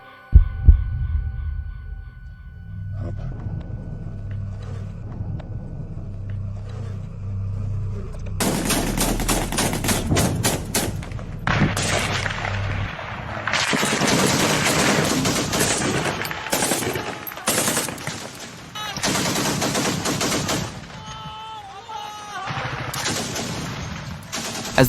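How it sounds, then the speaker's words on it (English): Automatic gunfire during an ambush near Tongo Tongo crackles in loud, dense bursts after a quiet low throb, rattling repeatedly with short gaps through the rest of the clip. "the morning air was split by automatic gunfire"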